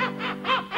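A voice imitates seagull cries for a cruise-ship ambience, three nasal squawking calls in quick succession, close and fairly loud, with a steady musical tone running underneath.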